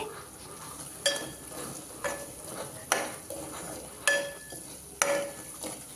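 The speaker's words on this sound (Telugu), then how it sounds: "ఆనియన్ పేస్ట్ని బాగా మిక్స్ చేయండి" Onion paste mixed with chili powder is stirred in a pan, a soft sizzle punctuated by about six sharp scrapes and clinks of a spoon against the pan at a roughly regular pace, with no talking.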